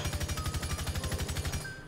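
Rapid automatic gunfire in Rainbow Six Siege, a fast even burst of about twenty close shots in steady rhythm that stops abruptly near the end.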